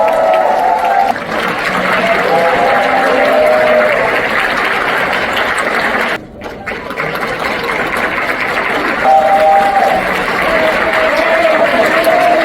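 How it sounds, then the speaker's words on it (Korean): At an award ceremony and talk concert, a hall audience gives sustained applause welcoming a football club owner onto the stage, a dense, continuous wash of clapping with a brief dip midway and faint music underneath. "최대호 구단주님, 여러분 뜨거운 박수로 FC 한양의 구단주님을 환영해 주시겠습니다"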